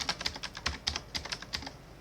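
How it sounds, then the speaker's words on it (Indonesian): Soft, close typing on a computer keyboard, a steady run of separate key taps in an uneven rhythm, heard alone without voices. "belum saya ketik"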